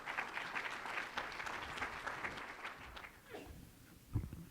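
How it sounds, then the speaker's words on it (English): An audience at a steel-timber hybrid buildings conference gives a round of applause for Terrence Busuttil, steady moderate clapping that thins out toward the end, with a few footsteps or bumps. "could you please give a round of applause to Terrence?"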